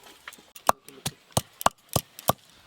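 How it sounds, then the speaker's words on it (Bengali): Ginger and garlic being pounded for mutton biryani make about eight sharp, evenly spaced thuds, close and fairly quiet, with no voices. "আদা রসুনগুলো বেটে দাও"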